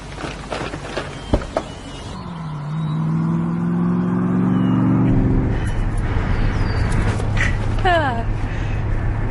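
A car engine runs and drives steadily in the middle section, a low rumble rising and holding under occasional voices, with brief clicks and knocks around it.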